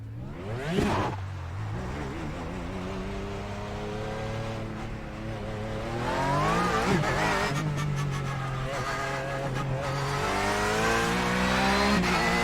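Race car engine starting and revving in iRacing, an Audi or Porsche, with rising and falling whining harmonics, sharp throttle blips and a louder sustained drone toward the end, loud and close.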